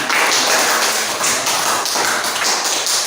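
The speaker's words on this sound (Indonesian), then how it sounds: "Kita kasih aplaus untuk semuanya." A classroom of students claps together in dense, continuous applause lasting a few seconds, loud and close with slight swells in the rhythm.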